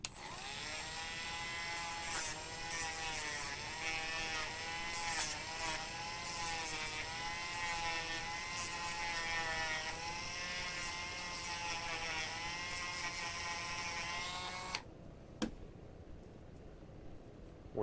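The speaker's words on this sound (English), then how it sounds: "I'm just going to take my little Dremel tool and smooth off the bottom" A small Dremel rotary tool whirs steadily while smoothing the bottom of a foam RC airplane handle, a close, continuous high-pitched buzz with slight pitch wavers that cuts off near the end, leaving a quiet room.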